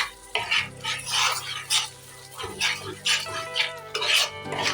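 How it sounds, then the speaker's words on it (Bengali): A spoon stirs paneer butter masala spices in oiled pan, giving repeated scraping, clinking strokes in an irregular rhythm with a faint sizzle underneath, close and moderately loud. "এবার একটু আমি নাড়াচাড়া করে নেব।"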